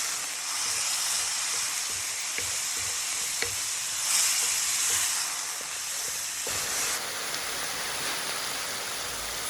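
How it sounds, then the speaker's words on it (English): Tomatoes fry in hot oil for panchmel tadka dal, a continuous loud sizzle and hiss with occasional stirring clicks, the crackle briefly surging midway and settling into a steadier, brighter fizz. "I'm just going to cook the tomatoes so they go a bit soft"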